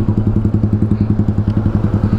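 Motorcycle engine on a group ride toward Polillo Island, a loud, close, steady pulsing thump with an even rapid rhythm and no talk.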